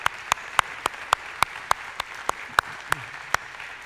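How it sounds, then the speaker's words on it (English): Slow, evenly spaced claps, about a dozen sharp individual hand claps at a steady beat, close and distinct over a quiet background during a church service. "Let's have a round of applause for the"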